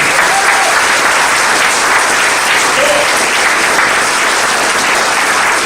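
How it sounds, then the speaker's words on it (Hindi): Sustained, loud applause from an audience at a training event fills the hall steadily from start to finish, a dense wash of clapping with faint voices underneath. "दोस्तों ज्यादा ताली लीजिए।"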